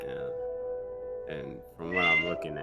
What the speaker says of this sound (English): Yeah, that's my cat. She's in my room.